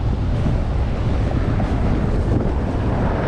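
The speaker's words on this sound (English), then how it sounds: "Oh, wind's a bit brutal." Strong wind roars as a dense, steady rumble across the microphone while a cyclist rides through a city in winter.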